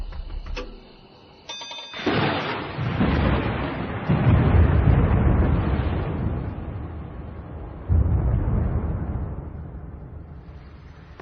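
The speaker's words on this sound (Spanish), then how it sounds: "Tronando, cayendo relámpagos." Deep thunder rumbles and rolls for several seconds with heavy low booms and long decaying tails, with no voices present.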